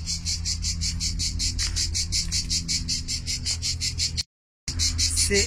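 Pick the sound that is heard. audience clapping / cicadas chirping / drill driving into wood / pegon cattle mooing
cicadas chirping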